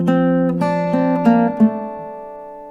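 Acoustic guitar playing the closing D-string section of a song: single plucked notes in a slow steady rhythm, clear and close, ringing out at the end.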